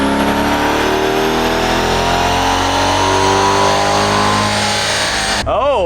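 A modded C8 Corvette on a dyno revs loudly and steadily climbing in pitch for about five seconds before cutting off abruptly, followed by a brief falling engine burble.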